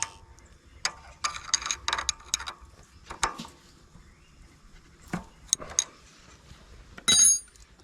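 A ratchet tightens a nut on a Briggs & Stratton riding mower engine, giving faint, irregular metallic clicks and clinks in short clusters, close by but quiet.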